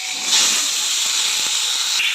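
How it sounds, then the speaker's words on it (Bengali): Ridge gourd frying in hot oil, a loud steady hiss of sizzling that surges near the start and holds evenly, close and alone. "এই তেলে ঝিঙেটা ভেজে নেব।"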